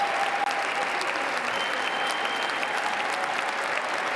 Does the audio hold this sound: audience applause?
yes